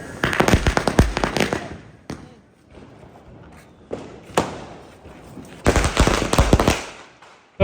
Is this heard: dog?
no